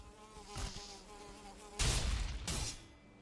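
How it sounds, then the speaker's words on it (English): A buzzing, whining insect drones steadily in the Valheim video game, with two louder swells of noise passing over it, and no voices. "a death skeeto. That's what that is. Heard like a buzzing sound"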